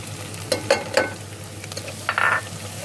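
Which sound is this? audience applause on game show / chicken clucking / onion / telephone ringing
onion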